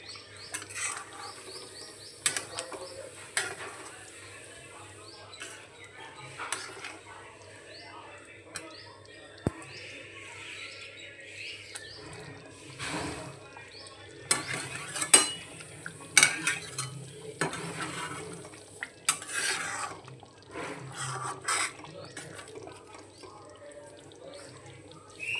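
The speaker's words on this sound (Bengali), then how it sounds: "একটু গরম মশলা দিয়ে ছাটিয়ে বাটিতে সার্ভ করে দিচ্ছি।" Paneer curry finished with garam masala is spooned from the pan into a bowl, a quiet run of scattered clinks and scrapes of utensil on cookware with a faint sizzle underneath.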